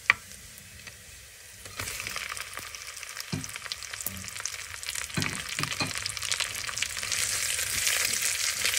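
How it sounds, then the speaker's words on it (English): Sausage hits a hot pot for Zuppa Toscana, starting quiet and building into a loud, steady sizzle with scattered pops and utensil knocks, close up with no talk. "The next thing we're going to add is our sausage."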